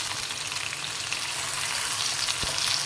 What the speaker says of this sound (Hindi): जी तो गोश्त हमारा काफ़ी हद तक भून चुका है